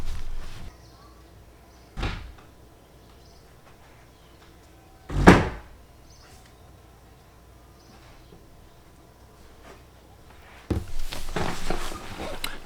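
A door is closed indoors with a few dull thumps, one louder bang in the middle, then some shuffling noise against a quiet room background.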